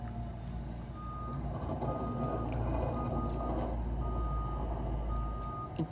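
A snow removal truck clearing the streets after 34 cm of snowfall before dawn, a steady heavy engine rumble with a continuous high reversing beep repeating throughout, close and loud.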